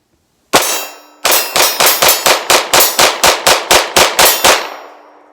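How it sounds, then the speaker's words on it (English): A SAR9 pistol fires a rapid magazine dump: one shot, a short pause, then roughly fourteen sharp, evenly spaced reports in quick succession, loud and close, ending with a brief ringing decay. "Let's see how fast I can do a mag dump and keep it on target at about 15-20 yards there"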